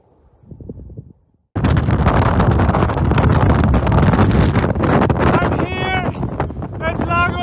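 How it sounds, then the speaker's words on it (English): Strong wind in Los Glaciares National Park, Patagonia, roars and buffets the microphone after a brief quiet moment, a loud continuous rush, with a voice faintly breaking through near the end. "the wind is a little bit too strong"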